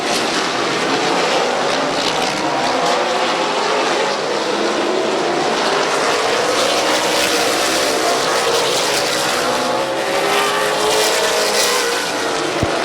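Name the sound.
stock cars racing at Midvale Speedway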